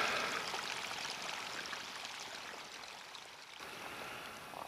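Water runs and trickles through beach pebbles on the coast at Watchet, a continuous close, bright rushing with no voices.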